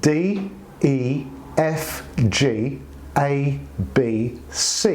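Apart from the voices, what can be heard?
No everyday noises stand out.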